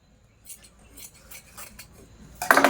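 A small strip of cloth, about four and a half by six and a half inches and cut from old lace or saree fabric, is snipped down the middle in a few quiet, close cuts, ending in a sharper, louder rustle.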